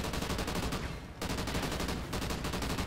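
Rapid automatic gunfire rattles through a Call of Duty: Ghosts firefight, near and loud, in sustained bursts with two brief gaps, and no talk over it.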